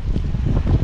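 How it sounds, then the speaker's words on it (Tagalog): Strong typhoon wind from Typhoon Uwan buffets the microphone in a loud, continuous low roar with gusty surges during a very short burst, and no one speaks. "ganyan nakalakas yung ating hangin"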